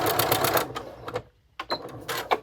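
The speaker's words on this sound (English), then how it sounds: "I'm just going to stitch right down that line. I'm going to back stitch here." A sewing machine backstitches fabric in quick rattling bursts of needle clatter, stopping briefly in the middle and then starting again in short runs, close by.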